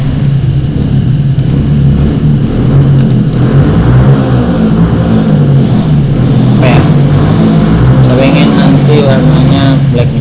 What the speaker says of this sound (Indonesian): Sorry ya, bunyinya ada bunyi mesin